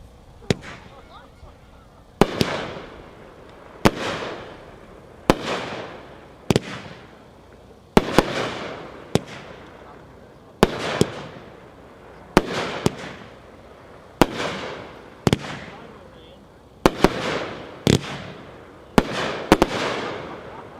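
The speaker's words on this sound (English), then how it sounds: "Number 3, Fanatic Fireworks by Mad Ox, packed 6-1, 14 shots." A Mad Ox Fanatic Fireworks cake, packed 6-1, fires its 14 shots as sharp loud bangs in an even rhythm about every one to two seconds, each followed by crackling decay.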